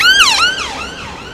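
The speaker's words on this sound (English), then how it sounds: "right on cue comes an ambulance. Not heard the siren for a little while." An ambulance siren wails loudly and close by on a Blackpool street near the tramway terminus, its pitch sweeping down and up in repeated cycles with no talking.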